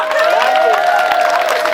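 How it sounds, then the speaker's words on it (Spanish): Audience applause and cheering for performers at a popular tribute event, a dense, loud wash of clapping and voices lasting under two seconds. "Aplauso para Elia y Senia."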